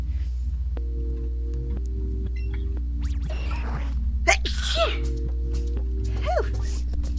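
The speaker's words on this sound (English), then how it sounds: "I'm trying not to sneeze." A single sharp sneeze bursts out over a steady low electronic hum, with faint speech around it.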